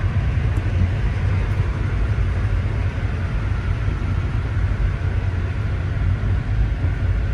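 Adirondack Railroad winter train rolling south behind its lead locomotives, heard from near the front as a loud, steady low rumble and rattle of wheels and cars that holds without a break.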